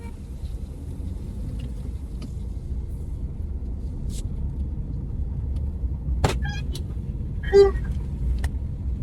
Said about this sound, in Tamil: வண்டி கொஞ்சம் முன்னாடி போட்டுட்டுமா?